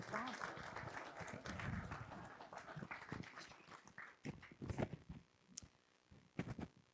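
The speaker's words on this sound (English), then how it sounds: "Please join me in one more round of applause for our amazing honorees" Scattered audience clapping for honorees at a city State of the City event, irregular and moderately distant, mixed with room noise and fading into separate claps toward the end.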